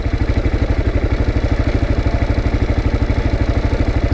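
A Kawasaki KLR motorcycle engine idles in neutral, its steady low, rapid thumping pulse running evenly and loudly up close, with a mechanical clatter over the top and no talking.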